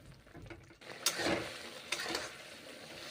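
Pointed gourd and ridge gourd curry with a little added water is stirred in a pan, a short burst of close scraping and wet sizzle with two sharper utensil knocks, no speech.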